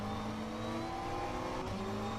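A McLaren GT3 race car engine on the Daytona road course in a racing game, a steady, faint, droning hum at near-constant revs.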